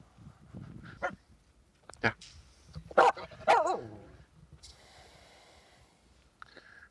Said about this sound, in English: Are you barking at the echo?